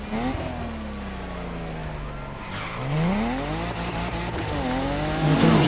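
A Japanese sports car in The Crew Motorfest driving hard, engine droning and rising through gear changes with revs climbing and dropping, tires squealing faintly, heard close without talk.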